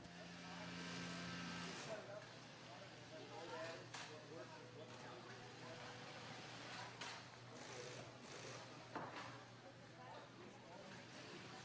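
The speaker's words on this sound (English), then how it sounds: "using a special heavy-duty sewing machine" A heavy-duty industrial sewing machine stitches a pack frame through the back pad onto a diving BCD vest in a factory, giving a steady, faint mechanical whir with small clattering bursts.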